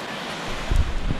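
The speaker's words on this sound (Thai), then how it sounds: "มีเป็นน้ำตกลงมาครับ" A waterfall beside a trail on the Pongyaeng trail race route gives a steady, broad rush of falling water, with a brief low rumble like wind on the microphone partway through.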